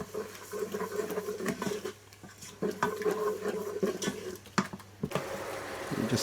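Yogurt being stirred into cooked onions in a pot for a kala chana and aloo curry: soft, wet patters and scraping clicks from a spoon, close and fairly quiet, with a brief pause midway.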